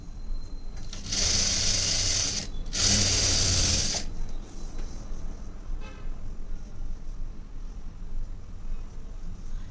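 A sewing machine stitches a boat-neck blouse piece in two quick, loud bursts of rapid mechanical whirring separated by a brief pause, then falls quiet.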